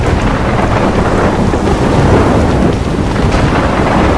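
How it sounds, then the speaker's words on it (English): A thunderstorm with heavy rain in the video game Life is Strange: a dense, steady roar of downpour with low rumbling thunder, loud and continuous throughout, with no voices. "trapped in a storm?"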